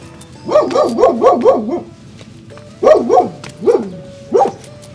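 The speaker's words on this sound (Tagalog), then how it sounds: "Ay, may aso." A dog barks in a quick burst of about six yips, then pauses and gives three more separate barks, fairly close and clear.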